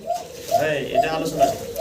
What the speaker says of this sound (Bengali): সাইজ দেখেন অনেক বড় সড়ো লোটন কবুতর, তাও আর একটা ইউনিক কালার।